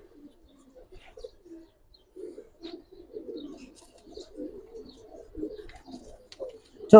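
Pigeons at a seller's stall coo softly and repeatedly in low, throaty murmurs, close by but quiet, with a sharp knock at the very end.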